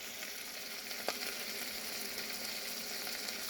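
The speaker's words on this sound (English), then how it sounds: "Cooking breakfast, scrambled eggs, bacon lardons, coffee" Scrambled eggs and bacon lardons fry for breakfast in a van kitchen, giving off a dense, even sizzle close by. One brief tap of a utensil cuts through the hiss.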